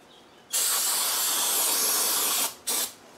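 Brake cleaner sprayed onto engine parts during a Land Rover 300Tdi rebuild of the rods and pistons: a loud, close aerosol hiss lasting about two seconds, then a brief second burst.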